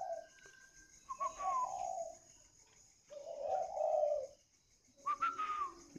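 A chim hồng songbird, kept as a cage bird, sings low cooing phrases in three separate bursts with quiet gaps between, fairly faint and alone.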